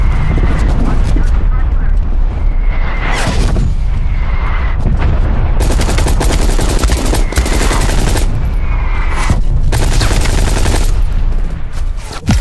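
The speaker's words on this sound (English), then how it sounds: "Incoming artillery." Incoming artillery explosions and heavy gunfire pound in Black Ops Cold War, dense loud booms and bursts over a continuous battle din, with voices calling out during the barrage.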